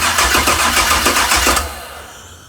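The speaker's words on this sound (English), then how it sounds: "Like that starter sounds really strong. It's turning over so beautifully." Starter cranking over the yacht engine fitted in a 1957 Chevy, a loud, steady churning rhythm of repeated turns for about a second and a half before it cuts off and fades.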